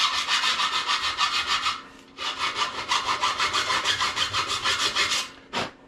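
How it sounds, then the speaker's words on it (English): A hand file rasps back and forth over sharp weld marks on a 1970 Schwinn Collegiate bicycle frame, giving steady, close, rhythmic strokes in two runs with a short pause, ending in one quick scrape. "we're just taking this file and we're going to run it on these sharp weld marks"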